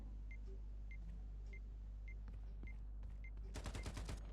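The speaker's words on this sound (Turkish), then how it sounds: "Bu silah bu arada Türk yapımı diye biliyorum." Rapid burst of gunfire from a Turkish-made gun in the video game Sabotaj, a loud run of close, quick shots near the end after a stretch of low rumble and faint clicks.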